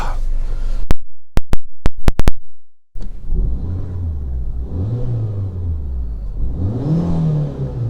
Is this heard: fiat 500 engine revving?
yes